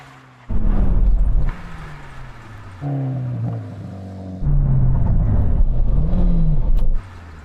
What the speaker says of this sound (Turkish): Tamam şimdi saatte 160 km hızla fren testi yapacağız.